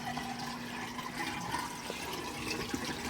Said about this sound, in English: Now I'm using my now clean pump and hose to pump the water out of this into the sink